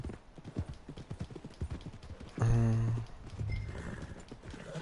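In a video game near the stables, a horse's hooves clip-clop steadily, then it gives a loud whinny, with quiet talk underneath.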